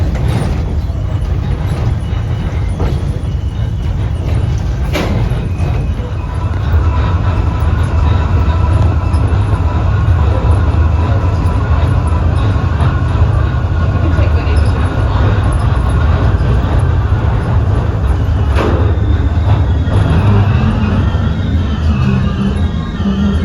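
The magnet-driven Senate subway train beneath the US Capitol starts moving from a platform with screen doors, giving a loud, steady mechanical rumble and hum that builds and holds throughout, with faint clicks along the way.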